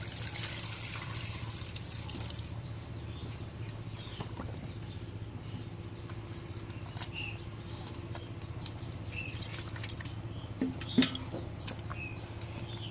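Water is poured into a cooking pot holding shati fish for a lentil dish with taro, a steady close wash of running liquid lasting throughout, with a couple of faint clicks near the end.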